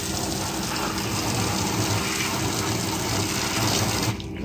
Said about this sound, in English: So go ahead and take this, turn on the hose, we'll start rinsing it